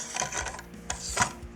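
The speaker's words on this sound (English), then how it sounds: "Next, we'll install the non-reciprocating bolt carrier assembly." FN SCAR non-reciprocating bolt carrier assembly being slid forward into the rifle: short close metallic scraping and rubbing with a couple of sharp clicks, brief and fairly loud, with no voices.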